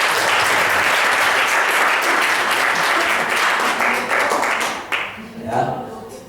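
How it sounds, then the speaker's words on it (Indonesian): An audience claps together in a sustained, dense burst of applause that fades and thins out near the end, with a voice briefly audible. "Tepuk tangan ya."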